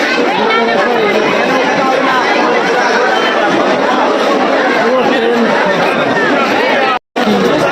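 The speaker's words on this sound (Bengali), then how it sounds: "চারিদিকে শুধু ভিড়, সব মেলাতে লাইন।" Dense crowd at the Kalyani Satimayar fair, a loud continuous babble of many voices close by, with a brief dropout near the end.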